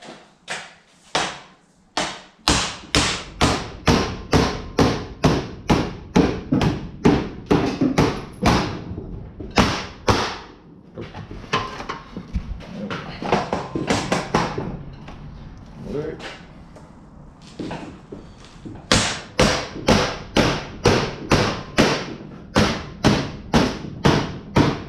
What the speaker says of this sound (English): I'm going to smack him with a hammer.